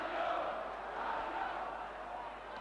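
A large football stadium crowd roars and applauds continuously, a distant, even wash of massed noise with no individual voices standing out.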